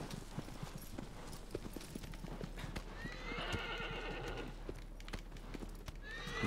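A horse in Shadow of the Colossus gallops with clear clip-clopping hooves and lets out a whinny midway, close and prominent against faint ambient background.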